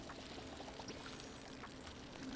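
Water pours steadily in a video game as a lamppost gets watered, a soft continuous splashing stream lasting about two seconds with no talk.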